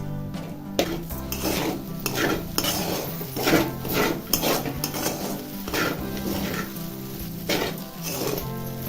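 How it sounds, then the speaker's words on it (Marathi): Sabudana khichdi is stirred in a pan over a low flame, giving a steady run of scraping spoon-on-metal strokes with a soft sizzle underneath, close and moderately loud, with no talking. "आता ह्याला बारीक गॅस करायचा आणि बारीक गॅस रे दहा मिनिटासाठी असा हलवायचा आहे"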